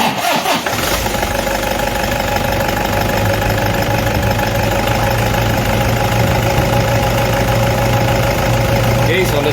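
A Toyota D4D diesel engine starts and settles into a steady, loud idle with a constant high-pitched whine from a faulty idler pulley running over it.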